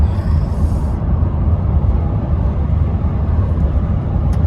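Steady, loud interior road noise from a car cruising along a highway through rolling, tree-lined countryside, a continuous low rumble and tire hum with no talking.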